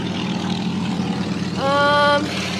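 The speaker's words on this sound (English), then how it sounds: "let's wait for this motorcycle to pass, shall we?" A motorcycle passes by outdoors, a steady broadband rumble that swells as a clear, higher engine whine rises briefly near the end before fading.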